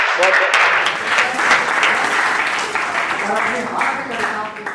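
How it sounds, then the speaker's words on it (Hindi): A crowd at a poetry gathering gives loud, sustained applause for poet Babu Lal Dengia from Rajasthan, thick continuous clapping that swells at first and then holds steady, with voices mixed in. "तो एक बार जोरदार तालियां बाबूलाल डिंगिया के लिए"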